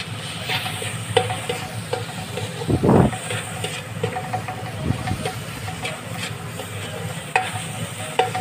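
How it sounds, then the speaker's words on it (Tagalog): Chopped onions fry in a pan for sambusa, giving a steady close sizzle broken by a few scraping stirs and one louder burst of spattering midway, with no talking. "Kung napapansin nyo, ano, namumula na yung sibuyas natin."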